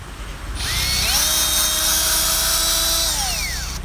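A power drill bores into Huang Hua Li wood, a three-year-old tree in Nan province, Thailand, starting with a sharp onset and whining steadily at high pitch for about three seconds before winding down, loud and close with no talk.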